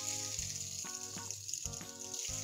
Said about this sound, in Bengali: মিডিয়াম আঁচে ডিমগুলোকে আমি লাল করে ভেজে নিব।